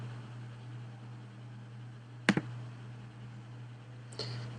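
A computer mouse clicks during setup of a VMware virtual machine, with a quick double click near the middle and a fainter single click near the end over a steady low electrical hum.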